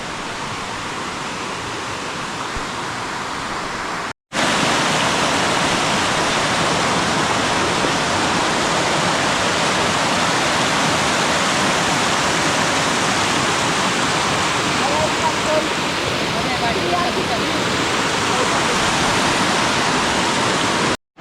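River water rushing steadily in Ratnagiri during the rainy season, a loud continuous broadband roar close by, briefly cut off after about four seconds and then resuming unbroken.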